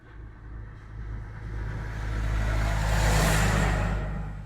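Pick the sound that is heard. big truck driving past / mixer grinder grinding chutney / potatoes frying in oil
big truck driving past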